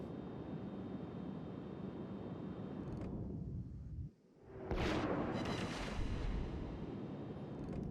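Battleship main guns fire in a naval video game, a deep booming salvo after a brief lull, followed by a rumbling, crackling tail over steady engine and ambient noise.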